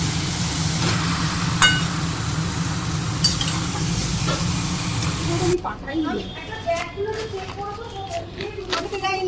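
Marinated chicken sizzles steadily in a pan as it is slow-cooked for Bengali kosha. After about five seconds the sound cuts abruptly to a quieter room where adults and children are talking.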